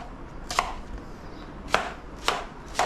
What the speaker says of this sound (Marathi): हे पप्पा टॅमॅटो कांदे कापत आहे.